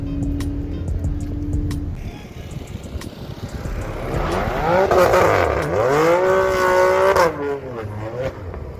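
A Mercedes C63 or BMW M3 engine, running on E85, revs up loudly, its pitch climbing and dipping through several surges before settling, with a steady rumble underneath.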